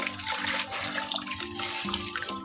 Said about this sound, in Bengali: একদম নিচের কল খোলা বলে একদম আস্তে জল পড়ছে